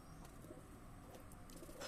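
A pair of high-flying pigeons cooing faintly, with soft low coos over a quiet background hiss.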